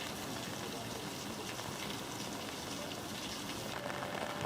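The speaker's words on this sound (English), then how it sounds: "the rain won't stop" Steady rain hisses evenly throughout at a theme park, a dense wash of patter with no breaks and no one speaking.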